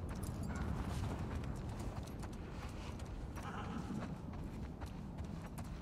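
Horse hooves clip-clopping in The Last of Us Part II, a snowy scene, with a steady run of muffled hoof impacts under a dense low rumble, continuous and fairly close.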